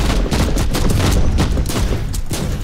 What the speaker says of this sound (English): Switching to to the assault cannon to banish all of these demons here.